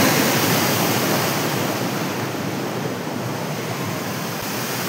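Rushing water at Dossam Falls pours in a loud, steady broadband roar that stays even throughout, with no voices.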